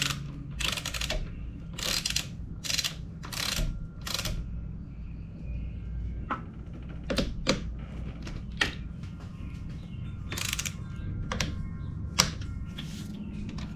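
A torque wrench clicks while pinch bolts on a motorcycle triple tree, a 2024/2025 Ninja ZX6R, are tightened to 15 foot-pounds. Sharp ratcheting clicks come in a quick run, then a few scattered clicks sound close up in a workshop.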